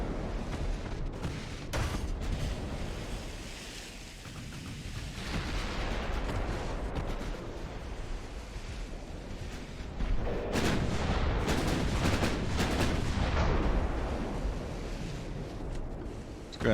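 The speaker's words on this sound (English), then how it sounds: "Just these single shells coming in, it's just not enough." Heavy naval shells from warships in Ultimate Admiral: Dreadnoughts boom and rumble in a sustained, roaring barrage, with deep blasts swelling and fading and a louder surge of fire toward the end.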